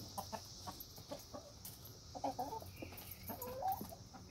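Chickens cluck in short repeated bursts while eating cicadas, fairly close, over a quiet farmyard background with no talking.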